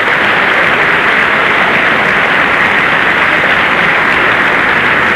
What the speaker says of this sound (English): they are contributing mightily to the applause